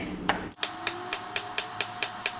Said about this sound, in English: And then we're gonna cut our cookies and bake them.